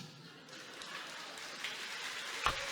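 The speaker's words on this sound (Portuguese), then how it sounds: "É aplaudido." Audience applause at a political speech with Lula present, faint and distant, a soft continuous wash of clapping with a couple of brief louder accents.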